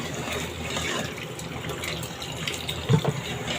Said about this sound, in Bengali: এখন আমি ঝোলটা দিয়ে দিব।